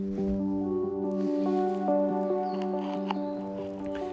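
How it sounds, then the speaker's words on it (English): A spoon cuts into a set cheesecake: a soft, squishy cutting sound, close and quiet, under a steady humming tone that runs throughout. "That's the noise of a perfect cheesecake"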